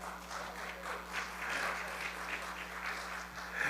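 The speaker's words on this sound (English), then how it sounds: "Jake, there are a lot more people than the applause you just heard." Modest applause from a congregation gathered for a Friday Shabbat service, soft and steady over a low electrical hum for under four seconds.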